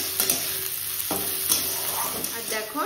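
Chopped garlic and chilli stir-fried with onion in a pan, a steady close sizzle with scraping stirs and clinks of the spatula against the pan throughout.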